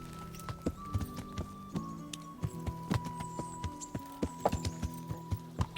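Horse hooves clip-clop steadily in the medieval game Kingdom Come: Deliverance, an even walking rhythm of crisp close thuds over a low sustained musical drone.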